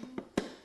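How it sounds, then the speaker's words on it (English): The lid of a Sage (Breville) Smart Scoop ice cream maker is shut: a couple of soft taps, then one firmer close click, brief and near. "Shut the lid"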